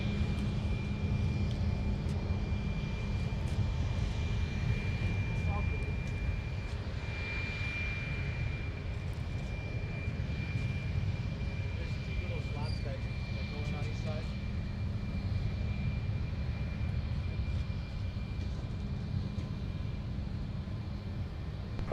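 A jet taking off at Minneapolis–Saint Paul airport gives a loud, steady roar of engine noise that holds throughout with a faint high whine over it, while air traffic control radio talk runs over the top.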